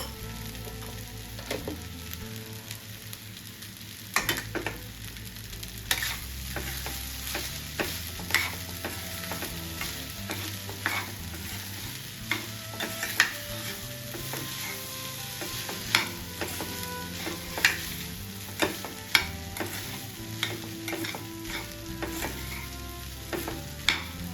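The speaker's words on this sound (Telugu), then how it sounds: "ఇట్లా ఒక ఐదు నిమిషాలు తిప్పుతూ ఉంటే మనకి టమాటా ఫ్లేవర్ అంతా మనకి రైస్కి పట్టేస్తుంది" Tomato rice is stirred in a sizzling pan, with a steady fry hiss beneath repeated scraping and knocking of the spoon against the pan, close and continuous with no talk.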